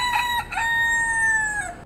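A rooster in an Ybor City park, among a flock of free-roaming city roosters, lets out a single loud, close crow with a few stuttering opening notes and a long sustained call that drops off sharply.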